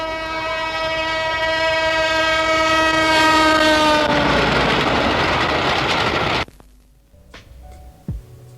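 A train roars past sounding a long, loud horn blast over clattering wheels, then cuts off abruptly to near silence with a single thump afterward, part of a dramatized public safety scene on a railway track.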